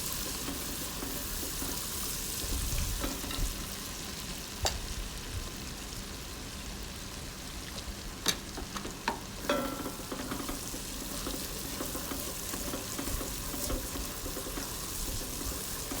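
Ground spices fry in oil in a pan over low heat for a beef curry, a steady close sizzle broken by occasional scrapes and clinks of a spatula as they are stirred, with no talking.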